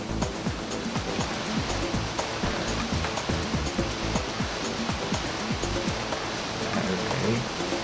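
A waterfall in the Lego Racers 2 video game gives a steady, dense rush of splashing water, constant and fairly loud throughout, with no voices over it.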